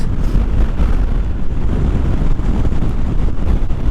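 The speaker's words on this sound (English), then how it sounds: "Right now we're a little bit sideways because of the wind" Strong, steady wind buffeting roars across the microphone while riding a commuter motorcycle fitted with a windscreen, a continuous loud rumble with no talk.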